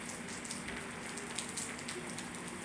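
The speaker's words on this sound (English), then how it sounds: "we just get a mild downpour with some hail" A mild spring downpour mixed with hail patters in a steady, even hiss of drops striking surfaces outdoors, fairly faint and continuous, with no voices.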